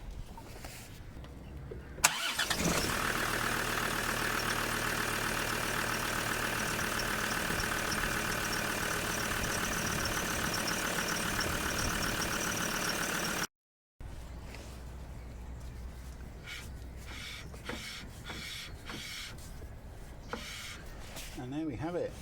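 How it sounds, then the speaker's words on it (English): A Land Rover Discovery 2 TD5 engine cranks and catches, then settles into a steady, close diesel idle with a faint knock, cut briefly before the running engine continues under light clatter. "I'll start the engine up, apply the brake pedal a couple of times to seat the pads properly"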